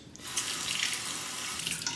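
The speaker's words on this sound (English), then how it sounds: "Cold water rinse to the face" Cold water running steadily from a tap into a sink for a face rinse after a shave, a continuous close splashing rush with no voices.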